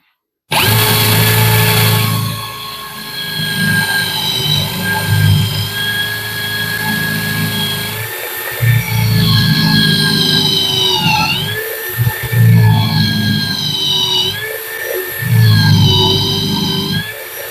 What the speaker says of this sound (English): I also have this Forstner bit set. Let's take a look how the machine performs with those guys.